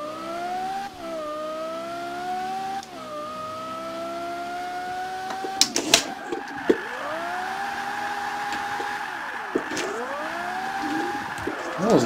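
A drifting car's engine wails in long rising and falling tones under load, then tires and engine break into a choppier, varying roar with sharp spikes near the end, loud and close throughout.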